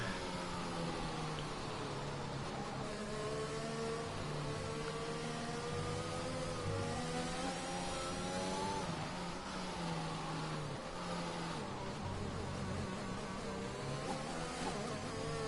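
Formula 1 cars race in the F1 2021 video game during the French Grand Prix, their engines a steady, continuous high-pitched whine that shifts slightly in pitch throughout, with no pauses.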